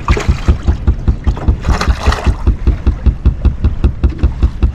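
Wind buffets a fishing boat out on open water, a steady loud rushing roar close to the microphone with a rhythmic low thumping pulse running throughout.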